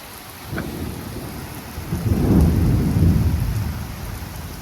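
Severe thunderstorm with intense lightning and gusty winds, heard near a house: steady rain hiss with a low rolling thunder rumble building in the second half, no talking.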